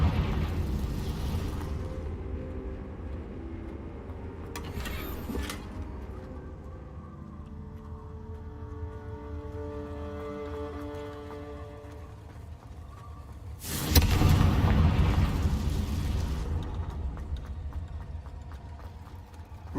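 Confringo fire spells in the Hogwarts Legacy video game burst in loud explosive booms, including a strong blast partway through, over a continuous rumbling game soundscape with no talking.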